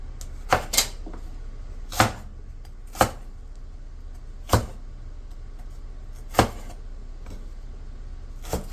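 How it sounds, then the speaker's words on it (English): A knife chopping celery on a cutting board, seven or so crisp separate thuds spaced about a second apart. Each one is close and sharp, with quiet room tone between the cuts. "So the first thing we need to do is chop up our vegetables."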